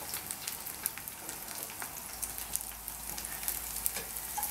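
Eggplant pieces fry in a pan for browning, giving a steady, bright sizzle with scattered crackling pops, close and fairly loud, with no talking.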